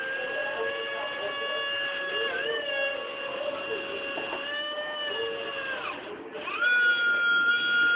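A faulty R/C helicopter motor gives a thin, steady whine with strong overtones. It dips in pitch twice before settling back to a slightly louder, even drone, with no voices.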